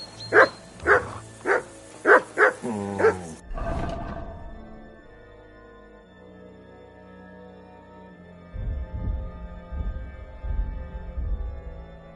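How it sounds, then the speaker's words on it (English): A dog fires off six quick, loud barks close up in the first few seconds, then goes quiet; a low musical drone and rumbling noise take over for the rest, with no talking. "Call that dog to heel!"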